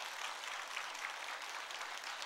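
A church congregation at a covenant renewal service applauds in encouragement, a soft, steady wash of many hands clapping heard from a distance, with no voices over it.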